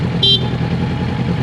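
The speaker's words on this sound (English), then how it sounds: "Yeah, I got a train horn," A brief, loud horn blast from a Honda Gold Wing motorcycle fitted with a train-style horn sounds once, close up, over a steady rumble of engine and road noise.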